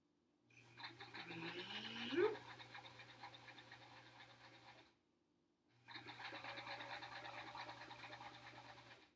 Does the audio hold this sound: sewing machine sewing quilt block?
yes